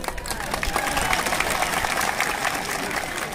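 Sustained applause from a crowd, dense steady clapping that holds at an even level for the whole stretch.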